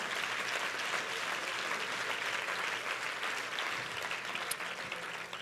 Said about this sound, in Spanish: Dele mejor ese aplauso a su padre.